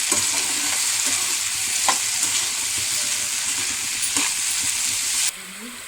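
Mushroom pieces frying in oil in a kadai, a steady loud sizzle running throughout with occasional scrapes of stirring, cutting slightly quieter near the end.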